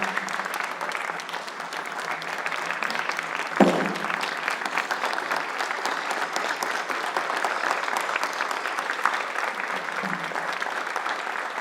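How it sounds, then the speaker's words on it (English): An audience at a school honoring ceremony gives a long, sustained round of applause for a retiring couple, steady clapping from many people throughout with a brief louder knock partway through. "give a big round of applause for Mr. and Mrs. Brehm"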